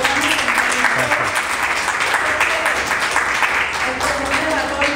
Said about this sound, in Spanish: Yo creo que ha quedado un fuerte aplauso